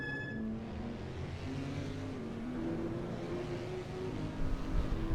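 Camaro GT4 race car lapping VIR in Assetto Corsa, a steady engine drone held at high revs throughout, swelling a little louder and rougher in the final second.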